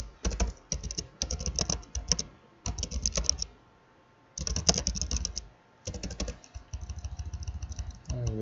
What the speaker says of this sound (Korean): Shift 키를 누르고 할 수가 있습니다.